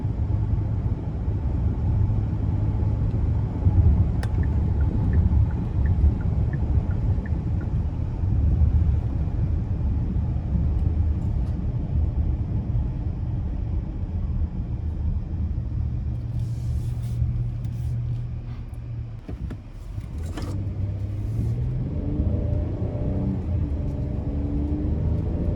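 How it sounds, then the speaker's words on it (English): A 2025 Hyundai Palisade Calligraphy Night Edition AWD in sport mode, heard from inside as a steady low engine and road rumble during an interstate drive, with a brief shift or clunk and a rising engine tone toward the end. "I'm gonna put it into sport mode as we get ready to take her out on the interstate"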